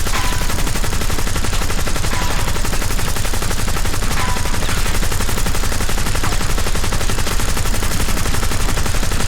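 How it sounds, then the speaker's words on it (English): Relentless automatic gunfire pours into a nuclear bomb in the Black Ops 6 video game, a dense and loud stream of shots that barely pauses for the whole stretch. "unload an ungodly amount of bullets into the nuke"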